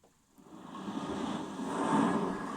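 A synthesized ocean waves sound from an electronic keyboard, a steady, soft wash that swells gradually and stays broad and even, with no voices over it.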